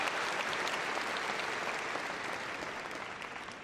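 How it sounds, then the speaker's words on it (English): Steady, dense applause from a large arena crowd at the Crufts 2013 gundog display, a continuous wash of clapping that fades gently toward the end. "Give a big round of applause, guys"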